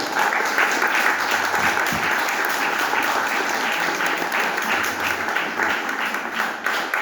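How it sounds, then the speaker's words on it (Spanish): A crowd applauds after a dance performance at a book presentation event in Lima: loud, continuous clapping from many hands, evenly sustained from start to finish with no speech. "Vamos a dar un fuerte aplauso a esta hermosa danza que se ha presentado"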